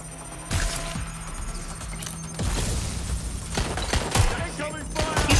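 Gunfire in Watch Dogs Legion: bursts of sharp shots crackle at irregular intervals over a continuous background of game sound, some in quick rapid clusters, moderately loud and near.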